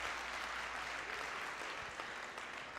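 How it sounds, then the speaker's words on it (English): Sustained crowd applause fills a table tennis hall at the English Open singles day, a dense steady clapping that stays loud throughout with a faint voice underneath. "Biggest round of applause of the day for that point."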